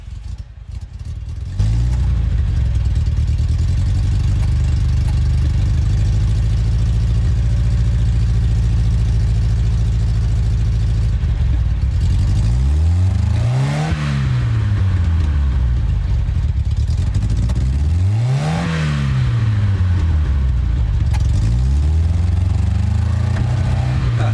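A car engine in a scenic racing video game hums steadily, then rises in two sweeping revs that climb and fall back, loud and continuous with no voices.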